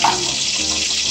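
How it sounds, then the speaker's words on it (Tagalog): Water poured into a pot of cooking vegetables and leaves, a steady rushing splash that runs evenly throughout, close and fairly loud, with no voices. "tubigan natin konti"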